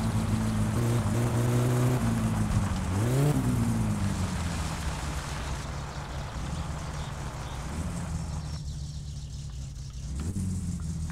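A car in the driving game My Summer Car drones along a loud road, its engine pitch rising and falling through revs and gear changes over a constant rumbling road roar, fairly close and steady.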